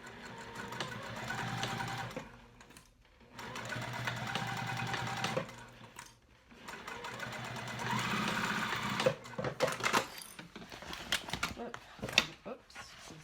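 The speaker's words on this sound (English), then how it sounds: "I'm just going to top stitch this at a 1/2 inch" A sewing machine top-stitches a backpack in several bursts of steady motor whir, pausing between runs, with some handling noise and brief talk near the end.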